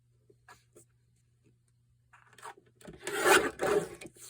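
Craft material for a Christmas project is cut by hand, quiet scattered snips and then a louder close scraping, rasping stretch of cutting in the last second and a half, no talking.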